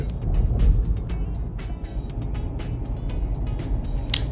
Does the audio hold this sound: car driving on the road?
yes